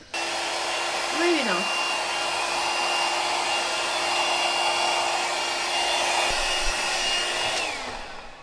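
Hair dryer blowing on wet paint, a constant close whirring roar held for about eight seconds with slight pitch wavers as it moves, cutting off at the end; a brief word is spoken over it.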